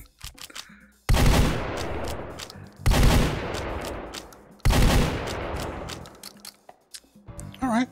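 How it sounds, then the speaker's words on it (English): A scatter gun firing in the VR game Hot Dogs, Horseshoes & Hand Grenades. Three loud, close blasts sound at spaced intervals, each trailing off into a long ringing decay, with small handling clicks between them. "You can also flip cock the scatter gun"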